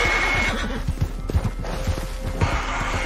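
In the video game Red Dead Redemption 2, a horse whinnies loudly while hooves clip-clop in an irregular rhythm close by, over constant outdoor background noise.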